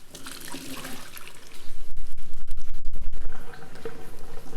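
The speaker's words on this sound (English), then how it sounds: "and it's time to drain our pasta" Water from cooked orzo pasta pours into a sink as it drains, a gushing, splashing rush that swells loudly partway through and keeps running.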